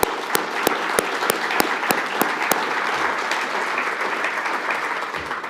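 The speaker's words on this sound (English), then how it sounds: "A very big round of applause, please, ladies and gentlemen." An audience at a conference session applauds the speakers with a dense, steady round of clapping; several sharp, evenly spaced claps stand out close by at the start before blending into the crowd.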